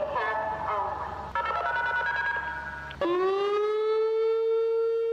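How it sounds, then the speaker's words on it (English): Electronic civil defense siren from a loudspeaker-type unit: a loud steady tone that shifts pitch partway through, then a strong rising wail that holds to the end, with no voices. "you have electronic sirens that are literally like electric speakers"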